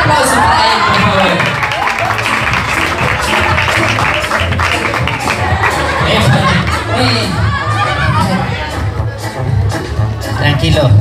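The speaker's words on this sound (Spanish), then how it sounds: "Fuerte el aplauso para él, por favor." A live audience at a clown comedy show claps and cheers loudly and continuously, with laughter, whoops and shouting voices mixed into a dense, close crowd roar.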